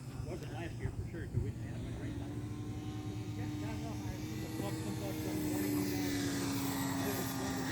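An E-flite Air Tractor electric model airplane flies overhead with a thin droning motor tone that shifts in pitch as it passes, while people talk nearby.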